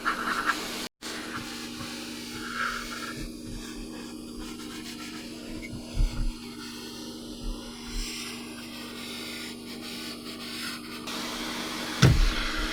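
A hot air rework station blows at 200 degrees with 120 airflow over an original Xbox Crystal board, giving a steady close hiss with faint rubbing and scratching beneath it.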